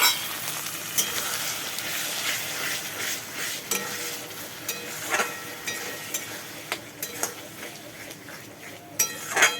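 Onions and spices sauté in a pan with a steady sizzle, broken by frequent scrapes and clinks of a utensil stirring against the metal.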